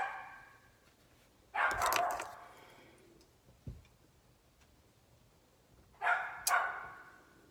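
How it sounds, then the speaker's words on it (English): Two short bursts of barking from a dog, a few quick yaps each, separated by quiet seconds with a single soft knock between them. "And the dogs are barking."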